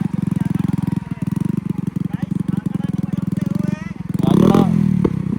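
A motorcycle fitted with an SC Project exhaust runs close by with a rapid, throbbing idle, then revs sharply near the end. Voices talk over the engine.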